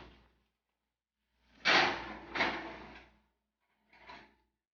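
An oven door is opened and shut as a tray of chocolate fudge cupcakes goes in, giving two loud thuds about a second apart with a quieter knock a little later, close by and with no talk.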